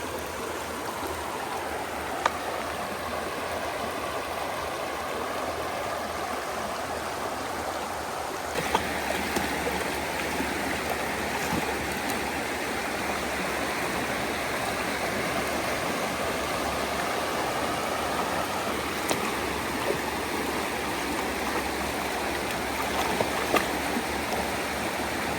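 The Mousam River flowing at Rogers Pond Park in Kennebunk, Maine, a steady rushing wash of moving water that holds an even level throughout, with no voices.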